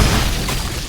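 Small time-bomb monsters explode in the video game Shadow Warrior 2: a loud, dense burst of booming blasts that fills the whole second without a break.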